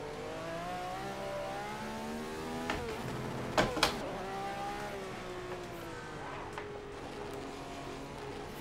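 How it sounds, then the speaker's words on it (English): A Ferrari 312 engine in a racing sim climbs steadily, then an upshift without the clutch cuts in with a couple of sharp clunks before the revs build again, faint and continuous. "Forgot to clutch on that upshift, by the way, if you heard that"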